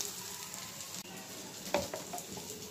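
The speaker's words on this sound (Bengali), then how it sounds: "এই যে মাছটা ভাজা হয়ে গেছে।" Fish frying in a pan of oil, a steady soft sizzle with a brief louder spatter near the middle, close up and without talk.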